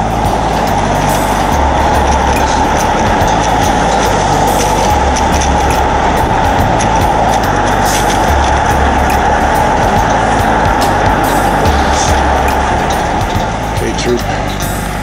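Heavy road traffic with trucks on Lincoln, a loud, continuous low engine rumble and road roar heard from inside a moving vehicle, with faint hissy bursts like air brakes.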